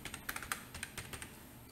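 Quick bursts of keyboard typing while a friend's number is entered into a gift card form on a phone or computer, close and clear with no talk.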